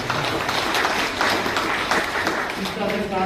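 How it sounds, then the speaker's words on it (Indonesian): A church congregation at a Catholic thanksgiving Mass claps for the choir, dense steady applause with voices talking over it and a tonal sound near the end. "Kita boleh tepuk tangan."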